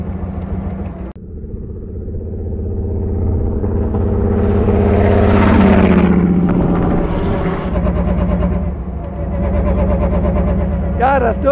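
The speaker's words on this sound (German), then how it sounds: "Der läuft bei 700 Umdrehungen hier hoch." Supercharged 7.1-litre 1929 Mercedes-Benz SSK rated at 250 PS: the engine idles low, then revs up to a loud rising roar, settles back and picks up again, with someone speaking over it.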